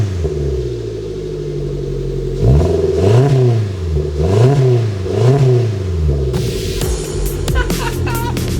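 Supercharged Suzuki Jimny with a new exhaust revving hard three times in a row, each rise and fall clear and loud over a steady idle, followed by a rattling clatter toward the end.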